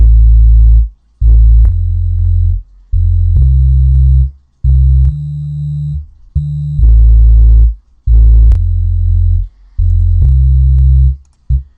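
A dubstep-style synth melody with heavy low bass notes in a repeating pattern that drops out every third beat, leaving short rhythmic gaps between loud, buzzy sustained tones.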